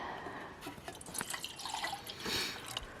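Eight ounces of water poured out at a backcountry campsite for an MSR Titan kettle, a close, steady trickle with drips and splashes over about three seconds, no talk.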